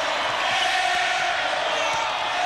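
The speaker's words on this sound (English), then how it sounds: "Crowd gets on his case a little bit." A large crowd at a 1990 NIT college basketball game roars in a steady, loud wash of voices just after a missed air-ball shot, with no break in the noise.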